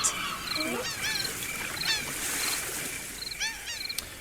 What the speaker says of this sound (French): Vous entendez la mouette?